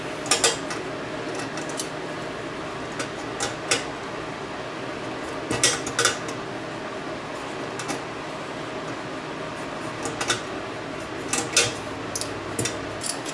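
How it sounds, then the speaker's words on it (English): Nuts are tightened on the back of an ELEKIT TU8200 6L6 single-ended tube amplifier, with scattered sharp metallic clicks and taps from the tool and hardware over a low steady background hum. "Just going to tighten down these nuts on the back here"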